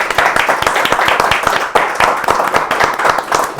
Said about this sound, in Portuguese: uma salva de palmas pra vocês